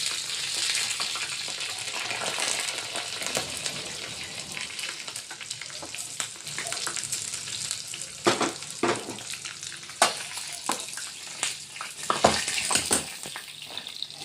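Curry leaves, cumin, mustard seeds, sliced garlic and chopped green chillies sizzle and crackle in hot tempering oil for a cabbage dish, with a steady bright frying hiss broken by sharper spits and stirring clatter near the end.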